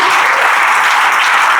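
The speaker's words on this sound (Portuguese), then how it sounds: "Eu quero que você aplaude o Senhor por essa palavra" A church congregation applauds the Lord at the close of a sermon, a dense, steady wash of clapping filling the space with no pauses.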